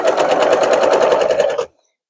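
A sewing machine stitches a major seam through a quilt block in a rapid, steady run of needle strokes, loud and close, before stopping abruptly into silence.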